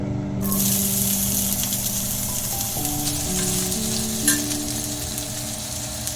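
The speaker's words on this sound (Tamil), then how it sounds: "வெங்காயம் போட்டு வதக்கிக்கலாம்" Onions sautéing in a pan for a South Indian paneer pepper fry, a steady close sizzle and crackle of oil running throughout with a low hum underneath, no voices.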